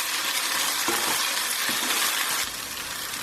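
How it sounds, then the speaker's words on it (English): Ginger and garlic paste sizzling loudly in a hot pan for a Bhuna chicken masala curry, with a spoon stirring and occasionally clinking against the pan through the steady frying hiss. "it's time now for our ginger and garlic paste to go in. And we're going to mix that through for a few minutes"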